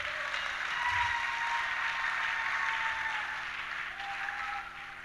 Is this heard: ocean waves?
no